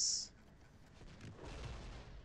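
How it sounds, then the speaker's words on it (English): A rumbling explosion in the space fleet battle game NEBULOUS: Fleet Command swells up after a brief high tone, a low muffled boom building and lingering at moderate loudness. "was a nice little explosion there"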